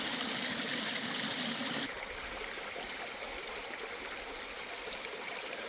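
Steady trickling and gurgling of a small stream flowing along a forested hiking trail on the Pinhoti Trail, close and continuous, slightly louder at first then settling into a softer, even flow.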